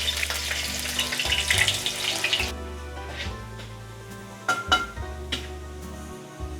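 Chopped ginger frying in sesame oil gives a loud, close sizzling hiss for a couple of seconds, then settles into a softer crackle broken by a few sharp taps and clinks of stirring.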